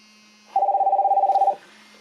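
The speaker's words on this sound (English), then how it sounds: "I'm going to have someone call my phone so you could see what comes up on the screen" A cheap aftermarket touch screen car head unit plays an incoming call ring through the radio: a steady electronic warbling tone lasting about a second, loud and alone over a quiet background hum.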